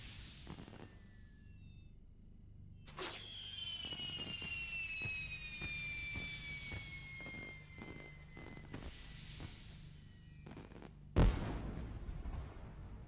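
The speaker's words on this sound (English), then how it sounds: "I just got here just in time to see the very end of the fireworks display." Fireworks display in the online game LOTRO (Lord of the Rings Online): a whistling rocket rises and fades, followed by a series of soft pops and a sharp late bang over a quiet ambient hum.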